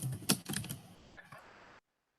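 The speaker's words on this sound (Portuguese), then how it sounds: "se alguém estiver digitando, eu não consigo ler" Computer keyboard typing during an online class, a quick cluster of close clicky keystrokes for under two seconds, then silence.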